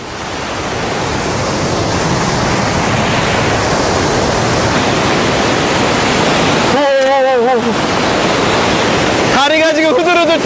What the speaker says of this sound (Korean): 가까이 다가간 폭포는 그 위세가 정말 대단합니다.